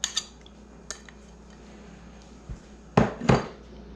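Muffin batter and yogurt blended in a bowl for blueberry oatmeal muffins, quiet and sparse, with a few light clinks early on and two louder scraping knocks of the utensil against the bowl near the end.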